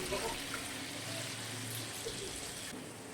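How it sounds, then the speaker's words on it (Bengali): Water poured into a cooking pot of simmering sour fish curry with hog plums and khoira fish, a steady, fairly quiet rushing splash lasting the whole moment with no talk. "আরও একটু জল আমি এর মধ্যে দিয়ে দিলাম।"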